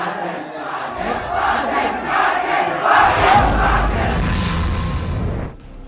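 A large crowd at a violent protest march in Nandurbar roars and shouts together, a loud sustained clamour of many voices with rising battle-cry surges before it drops away at the end.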